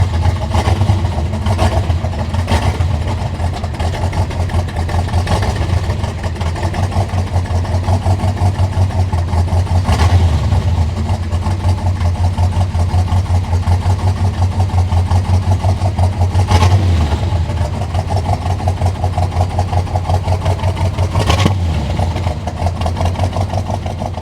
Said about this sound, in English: I love the sound of a big block C2 though, don't you?